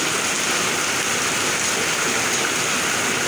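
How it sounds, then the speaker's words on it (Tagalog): Steady rain drums on a house roof, a dense continuous hiss of drops with no pauses, fairly loud and close, with no voices over it. "Pumapatak na naman ang ulan sa bubong ng bahay."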